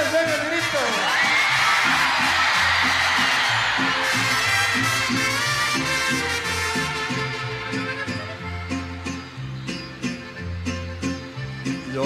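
Concert crowd at a ranchera show shouting and whooping together in a loud, sustained mass roar that swells early and then thins into scattered cheers over music.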